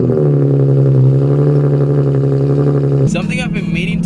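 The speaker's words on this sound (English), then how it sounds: "so here's a 4-hour long cold start, I guess." A car engine runs loud and close after sitting for about four hours, a steady droning idle with a slight rise in pitch, then changing abruptly near the end as other noise cuts in.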